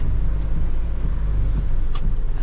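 A Mitsubishi Triton single-cab pickup engine pulls in second gear at about 2,000 rpm, a steady, loud low drone heard from inside the cab with road noise and no talk.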